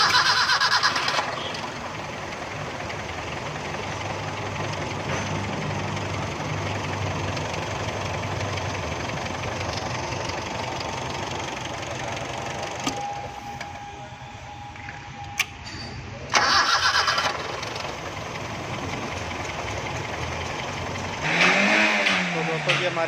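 A 1982 Toyota Corolla pickup's petrol engine runs steadily at idle, a continuous low drone with a brief dip partway through, while someone talks over it.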